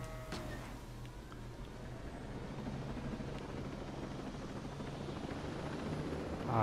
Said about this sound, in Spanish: Pillamos el helicóptero, nos piramos y aquí no ha pasado nada.